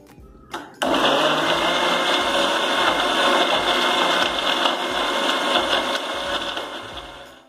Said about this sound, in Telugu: ఇప్పుడు మూత పెట్టుకుని మిక్సీ పట్టుకుందాం.